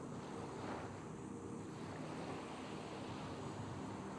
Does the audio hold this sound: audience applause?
no